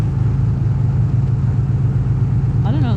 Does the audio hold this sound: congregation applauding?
no